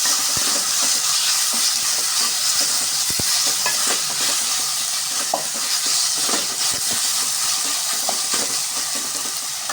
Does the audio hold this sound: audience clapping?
no